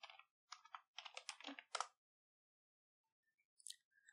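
Typing on a computer keyboard, with several quick clusters of crisp key clicks close up, a short silence, then a few more taps.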